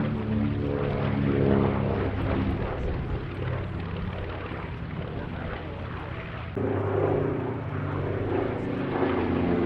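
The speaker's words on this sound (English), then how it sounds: "The last airworthy DC-6 in Europe." A Douglas DC-6 with Pratt & Whitney piston engines flies past at an airshow, its propeller drone loud and continuous, swelling and shifting in pitch as it passes.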